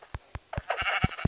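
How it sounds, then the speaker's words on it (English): Sheep in a survival video game give a quick run of short, nasal bleats close by, several overlapping calls squeezed into about a second. "We don't need these dang sheep in our way."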